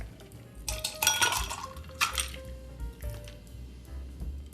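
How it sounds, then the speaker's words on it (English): A whiskey smash cocktail is poured with its shaken ice into a rocks glass, giving a clattering slosh of liquid and ice cubes clinking against glass in two or three close, fairly loud bursts. "So, pour that into the glass."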